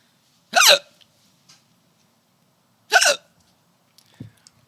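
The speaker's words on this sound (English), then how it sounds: "Looks like Jarrett's got the hiccups." Hiccups from a man in a comedy radio-theater sketch: two sharp, close hiccups about two and a half seconds apart, then a fainter third catch, with silence between.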